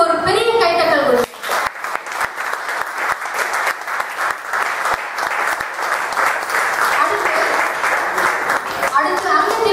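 An audience at a Toastmasters club installation ceremony applauds the new club officers with sustained, dense clapping that fills the room, following a brief spoken introduction and continuing loudly to the end.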